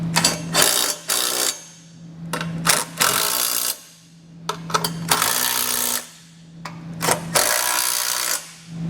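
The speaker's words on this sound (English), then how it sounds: "we're going to take a 17mm socket and tighten down all of our hardware" A power tool drives a 17mm socket to tighten trailer hitch bolts on a 2021 Subaru, several loud whirring bursts of a few seconds each separated by short pauses, close up.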